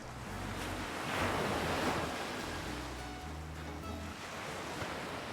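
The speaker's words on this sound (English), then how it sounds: "I do love the sound of the ocean" Ocean surf on a Hawaiian beach in a Nancy Drew video game washes in continuous waves, swelling loudly in the middle and then easing back into a steady, breezy roar.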